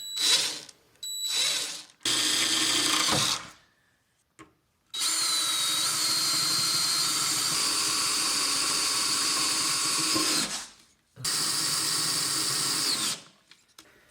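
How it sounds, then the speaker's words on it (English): A power drill drills pilot holes for mounting a LUVERNE step on a RAM ProMaster 1500 van, whirring in short bursts, then a long steady high whine, a brief pause, and one more spin-up before stopping. "Pilot hole first."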